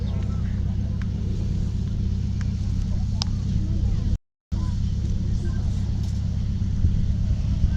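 WW2 re-enactment military vehicles drive through Normandy countryside, giving a steady, heavy low engine rumble that runs continuously and fairly close, broken by one brief dropout.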